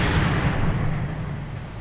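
A cannon fires in the video game Sniper Elite 3: Afrika at Fort Rifugio, a single heavy boom whose deep rumble rolls out and slowly decays.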